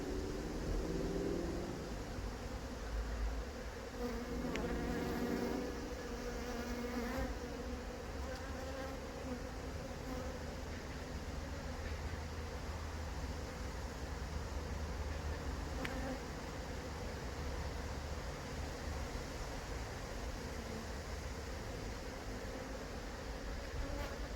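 Honeybees crowd a hive brood frame, their close, dense buzzing holding steady throughout with brief louder swells from individual bees near the microphone.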